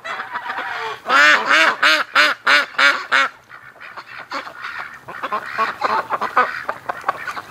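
Ducks and geese wintering in a swamp honk and quack in a loud, close burst of repeated calls, then carry on in a busier, slightly fainter chorus of overlapping quacks.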